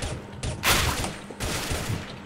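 AK rifle fire in a video game, heard as dense close bursts of rapid shots in a short volley, with two or three bursts separated by brief gaps and no talk.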